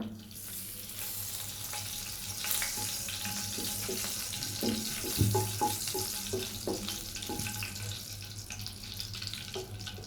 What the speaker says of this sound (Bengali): এখন আমি ভাজা তেলের মধ্যে দিয়ে দিব তেজপাতা